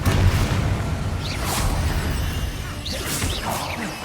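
Spell casting in the Hogwarts Legacy video game: several quick swooshing whooshes, each followed by a booming blast and crackling crash, loud and close, repeating in rapid succession.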